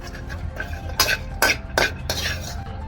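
Walnuts being stirred and tossed in a pan while roasting for dinkache ladoo, with four distinct scraping, clinking strokes of the spoon against the pan, close and clear, with no talking.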